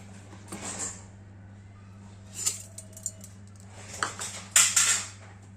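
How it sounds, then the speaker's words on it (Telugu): Toor dal is rinsed and tipped into a pressure cooker for baby food, giving a few clinks and metallic clatters of utensils and pot in separate bursts, fairly close, with quiet gaps between and no talking. "ఇందులోని 1 స్పూన్ కందిపప్పు, వీటిని ఇప్పుడు ఫ్రెష్గా కడుక్కొని కుక్కర్లో వేసుకుందాం."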